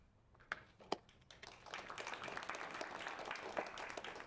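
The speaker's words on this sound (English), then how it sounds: "A great audience. They clap every time." Audience applause at a SXSW 2024 panel talk, starting with a few scattered claps and swelling into faint, steady clapping from a crowd.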